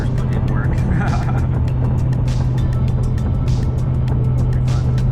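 The turbocharged 2JZ-GTE engine of a Lexus GS300 sedan holds a steady, loud, low drone with no changes in pitch, while people talk over it.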